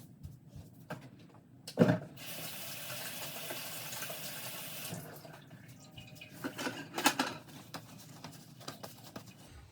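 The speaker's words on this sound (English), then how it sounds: "I'm going to go wash my hands first" A tap runs steadily for handwashing in a trucker's cab or stop, a broad water hiss from about two to five seconds, framed by clunks, knocks and handling noises before and after.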